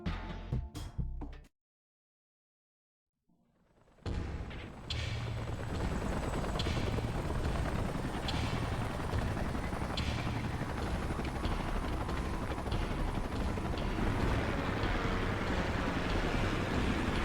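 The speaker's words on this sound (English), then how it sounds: "Let's call in the salvage choppers and get it out of here." Salvage helicopters arrive in Xenoblade Chronicles X, their rotors beating in a loud, dense, continuous roar that starts abruptly after a brief silence and holds steady throughout.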